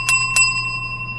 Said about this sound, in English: I wanted to ding the bell